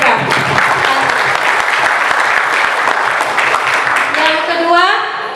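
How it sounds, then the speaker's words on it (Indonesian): Participants at a Quran recitation event at STEI Al-Furqon clap for a young reciter, loud close applause with some cheering, fading near the end as a voice begins to speak. "semua peserta kita berikan tepuk tangan dulu kepada adik kita"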